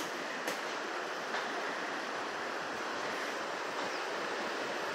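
Rough, churning sea waves at a beach in Itacaré, a constant loud wash of surf with no clear gaps, heard alone without voices.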